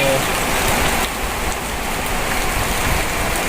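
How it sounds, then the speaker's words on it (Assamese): Heavy monsoon rain in Kottayam, Kerala pours in a dense, steady roar of broadband hiss, continuous and close with no pauses. "ইমান ডাঙৰ বৰষুণ দিছে নহয়"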